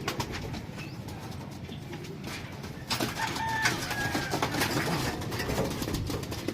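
Racing pigeons return to a loft, with soft wing flaps, coos and scattered bird calls over an outdoor background, fairly faint and close, with a busier stretch of flutter midway.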